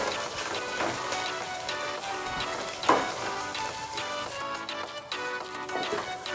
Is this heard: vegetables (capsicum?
yes